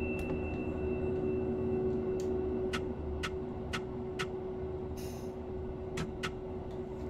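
A Class 700 electric train in Train Sim World 2022 runs with a steady low rumble and constant hum, while a series of evenly spaced ticking clicks repeats over it.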